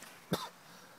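A single short cough bursts out close by, a brief throaty hack against quiet room tone, with no one talking.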